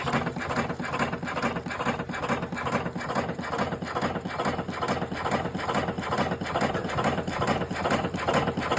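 An electric cigarette rolling machine runs continuously, a steady close mechanical chatter with rapid regular pulses and no pauses or talking.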